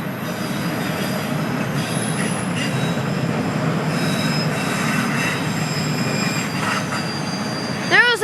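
A freight train rolls past with metal wheels squealing, high shrill tones wavering above a steady rumble of cars, close and sustained, ending with a rising screech.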